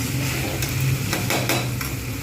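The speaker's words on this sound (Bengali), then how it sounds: "নাড়তে থাকবো" A utensil stirring barnyard-millet khichdi with pointed gourd and potato in a cooking pan: steady close sizzle with a few sharp scraping clicks spaced across it.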